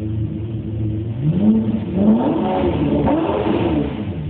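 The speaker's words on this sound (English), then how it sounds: "Listen to that engine roar." A sports car engine in its 220 mph mode roars and revs up loudly and steadily, the pitch rising and falling as it accelerates, with no voices.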